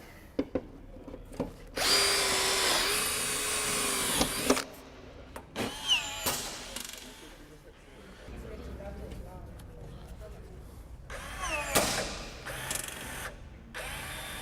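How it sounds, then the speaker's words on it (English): A power drill drilling a rivet whirs in several short bursts, loud and close, with pauses and handling noises between, plus quiet talk in the background. "I'll drill another one now."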